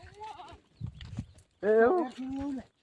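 Goats bleat close by in a rural herding setting, with a few wavering, nasal calls, the loudest near the end, mixed with shuffling and hoof sounds.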